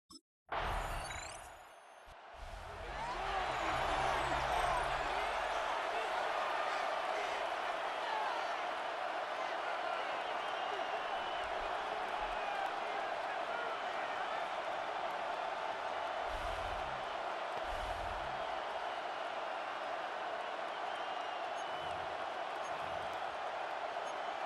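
Stadium crowd noise in the video game Madden NFL 26, a constant loud roar of a cheering football crowd that swells after a brief whoosh and holds steady throughout.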